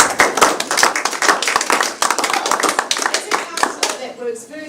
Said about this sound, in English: I think everyone should actually give Corin's team a round of applause